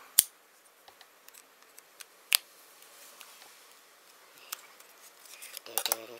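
A few sharp clicks and snaps as the battery is pried out of an LG Optimus phone, isolated ticks close to the microphone in near silence, with a brief cluster of small clatters at the end.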